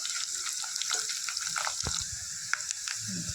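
Two broken red chillies fry in hot oil with asafoetida in a tempering for radish sambar, giving a close, crackling sizzle with small pops and occasional stirring clinks throughout.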